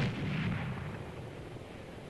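An artillery fire mission strike in a military co-op video game, a deep, rumbling boom that swells and then slowly fades, heard at a distance without speech.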